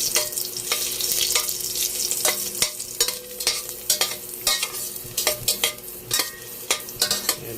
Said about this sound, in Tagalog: Gisa tayo ng bawang.